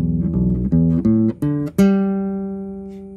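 A six-string bass guitar, tuned a half step down, plays a short run of plucked notes, each ringing briefly, ending on one low note left to sustain and fade.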